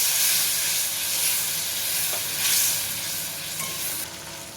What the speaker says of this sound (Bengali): খানিকটা খানিকটা জল দিয়ে কষিয়ে নেব